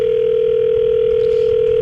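A steady telephone dial tone plays during a call from a radio station to a contest winner, holding loud and unbroken for nearly two seconds before cutting off abruptly.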